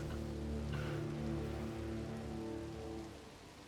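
Steady rain falls in a For Honor 4v4 Dominion match, a soft, continuous patter on surfaces with a low tonal hum running underneath, fading slightly near the end, with no talking.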